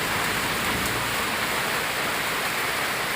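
Heavy rain falls in a dense, continuous hiss with no breaks, loud and steady throughout, heard close from inside a car during a downpour.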